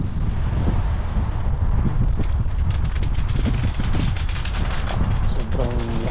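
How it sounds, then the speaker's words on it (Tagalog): Strong wind buffets the microphone outdoors at a busy Toronto street corner, a loud continuous roar with gusty bursts and faint voices underneath. "Sobrang lakas ng hangin."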